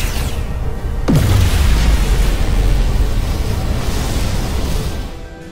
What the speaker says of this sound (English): Dilithium explosion!